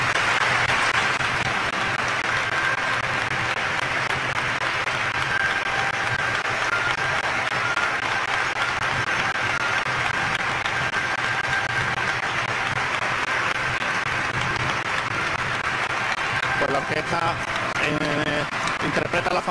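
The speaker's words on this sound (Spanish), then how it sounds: "los aplausos siguen sonando e incluso rompiendo el protocolo" Sustained crowd applause fills the air at the canonical coronation ceremony of the Virgin of las Penas in Barrio de la Viña, Cádiz, loud and continuous throughout, with voices mixed in and a brief tonal sound near the end.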